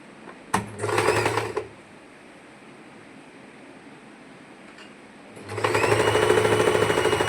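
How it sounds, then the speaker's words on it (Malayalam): A sewing machine double-stitching a pleated frock runs loud and close in two bursts, a short one early and a longer steady whir at the end, with a quiet pause between. "ഇനി അടിച്ചിട്ട് ഡബിൾ സ്റ്റിച്ച് ഇട്ട് കൊടുക്കണം"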